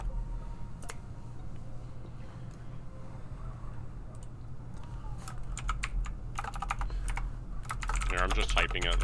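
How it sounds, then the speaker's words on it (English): Rapid clicking of typing on a computer keyboard during an online Among Us game session, steady and close throughout, growing denser and louder toward the end, with faint voices underneath. "I'm just typing it"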